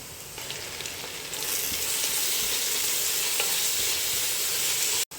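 Continuous sizzling and crackling of onions with crushed green chilli, ginger and garlic frying in a pan for Thalassery biryani, growing louder after a moment, with no speech.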